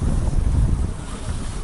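Strong wind buffeting the microphone on a catamaran, a loud low rumbling roar that gusts steadily throughout, with faint hints of water and boat noise.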